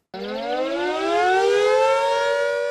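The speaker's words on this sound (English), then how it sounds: "with the sounding of the siren from Victoria Tower" Civil defence siren sounding from Victoria Tower in Guernsey for Liberation Day, starting abruptly and winding up into a loud, sustained rising wail with rich harmonics, heard alone without voices.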